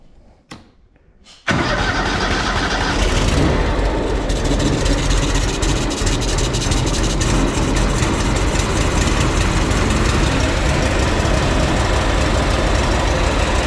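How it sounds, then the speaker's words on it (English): Wright Stander X mower engine with carburetor problems cranks and catches after a quiet moment, then runs loud and steady close by with a rough, slightly uneven drone, no voices. "this thing has carburetor problems, and it's not really running too good"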